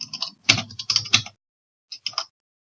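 Keys tapped on a computer keyboard during a typing drill, a fast close run of clicks and clacks in short bursts, a pause, then a few more keystrokes.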